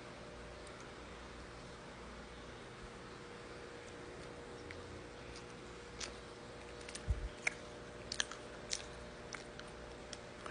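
Someone chewing a soft chocolate marshmallow dusted with powdered chocolate from Victoria Bakery in Baguio; quiet, close chewing and a few small clicks over a steady hiss, with no talking.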